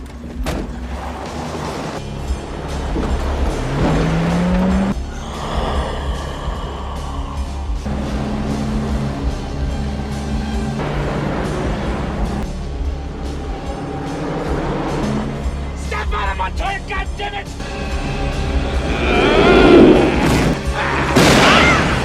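A car crashing and rolling over in a vampire film, a long stretch of loud booms, crunches and thuds layered with music and effects.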